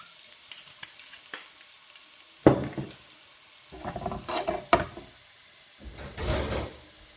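Sausages sizzle in plenty of oil in a frying pan over gentle heat, heard as bursts of crackling spatter and clattering as they go into the pan and are moved about, with quieter stretches between.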